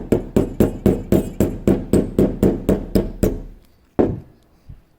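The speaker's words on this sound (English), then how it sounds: "time to hammer. Get these pins set. Gonna take my little, I got a tiny sledge here." A tiny sledgehammer drives pins into a Warlord Titan model, about thirteen sharp, evenly spaced taps close up in a steady rhythm, followed by one final strike after a pause.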